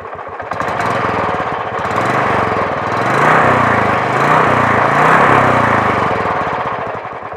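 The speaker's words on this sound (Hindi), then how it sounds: "दूसरा पॉजिटिव पॉइंट इस बाइक का है इसका एग्जॉस्ट नोट, यानी इसका साउंड," A Royal Enfield Classic 350 motorcycle runs close by, its exhaust giving a loud, deep, rapid thumping beat that swells slightly as the revs rise mid-way, then settles back, with no talking.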